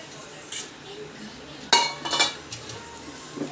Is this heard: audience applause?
no